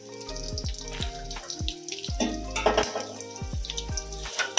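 Potatoes with turmeric and a little salt fry in a pan on a gas stove, with a steady sizzle beneath repeated clanks and scrapes of a utensil against the pan and some running water.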